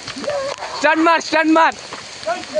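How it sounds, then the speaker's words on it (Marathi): Rain falls on a walk toward Zenith waterfall near Khopoli, a steady patter running beneath loud, close conversation between several people. "पाऊस चालू आहे."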